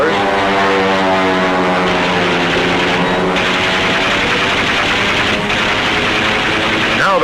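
Propeller aircraft engines drone loud and steady as WWII planes open fire on the surfaced German U-boat U-505 at sea, a dense continuous roar with layered harmonic engine tones throughout.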